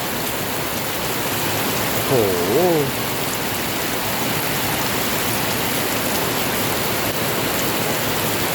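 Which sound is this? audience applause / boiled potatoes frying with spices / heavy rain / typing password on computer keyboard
heavy rain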